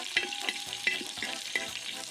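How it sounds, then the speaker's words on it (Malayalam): Curry leaves sizzle and crackle in hot oil with sautéed onions, a steady close frying hiss broken by a few sharp pops and stirring scrapes. "സവാള മൂത്ത് കഴിഞ്ഞ ശേഷം നമുക്ക് കറിവേപ്പില ഒരു 3 കണ്ട് കറിവേപ്പില അതിൻ്റെ അകത്തോട്ട് ഇട്ട് കൊടുക്കാം."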